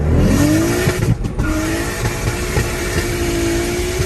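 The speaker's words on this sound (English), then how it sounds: "This is the legendary N54, which most people refer to as the German 2JZ." A BMW 335i with the N54 engine revs hard and close, its loud, rising whine climbing, dipping briefly, then holding a high steady pitch through to the end.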